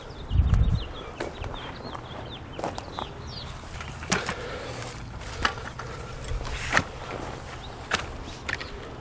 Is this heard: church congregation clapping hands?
no